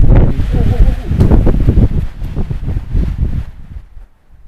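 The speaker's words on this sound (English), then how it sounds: "we may have to deal with some wind" Wind gusts buffet a microphone outdoors in a loud, rumbling roar, with a voice talking over it before the wind drops away at the end.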